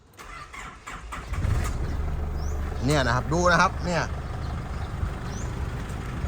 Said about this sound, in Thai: ผมสตาร์ทเครื่องให้ดูนะครับ